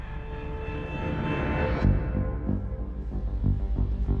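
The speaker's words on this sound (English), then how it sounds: "Commander Pierce, prep the chopper" Helicopter in the video game Quantum Break, a steady droning engine whine with rhythmic rotor thumps emerging partway through and growing more pronounced.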